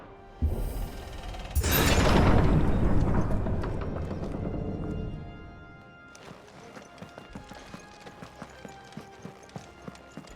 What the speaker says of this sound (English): Some large gates and stiff levers require a little extra effort to operate.